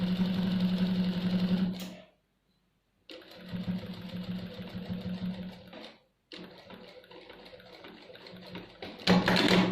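A sewing machine stitches a welt pocket on a jacket in loud, close runs, broken by two brief silent pauses before resuming.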